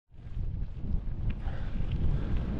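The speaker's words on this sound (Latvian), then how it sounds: "Vējš baigais." Strong wind buffets the microphone on a cross-country ride from Līgatne to Sigulda, a constant low roaring gust that runs the whole stretch alone, without speech.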